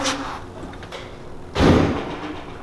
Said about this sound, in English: that just slammed the door